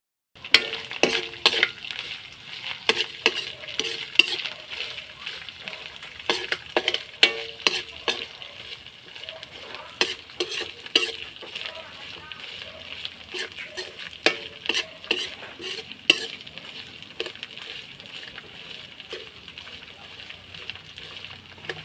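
Shrimp paste (bagoong alamang) frying with garlic and chili, with repeated sharp scraping and clacking strokes of a utensil stirring and crushing in a pan over a soft continuous sizzle, rhythmic and close.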